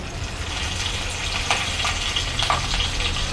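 Curry leaves crackle and sizzle in hot oil after cumin, a dense steady hiss with a few sharper pops, close and continuous.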